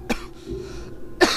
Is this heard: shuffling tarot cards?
no